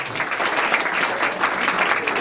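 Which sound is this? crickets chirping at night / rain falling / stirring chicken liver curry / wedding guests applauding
wedding guests applauding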